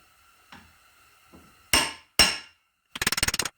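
A hammer drives a brass drift against a stuck part during a mechanical teardown, freeing a retainer and bearing: two loud, sharp metallic strikes, then a quick burst of about eight rapid taps, with faint clinks before.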